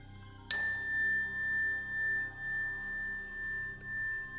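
A single bell struck once rings out clearly, and its bright tone decays slowly with a gentle wavering over a few seconds.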